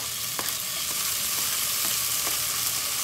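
Tomatoes frying in a pan with shrimp paste for Filipino ginisang bagoong alamang give a steady, close sizzle, with a few soft clicks of stirring throughout.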